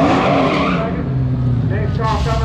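A Dodge Challenger Hellcat radial drag car launches at a drag strip, with a loud, close engine roar and screeching tire squeal that fill the whole stretch without letup.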